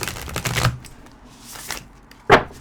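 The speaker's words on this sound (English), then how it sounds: "I am going to shuffle here for a second." Tarot cards are riffled and shuffled close by in a few crisp papery bursts, ending with a sharp snap.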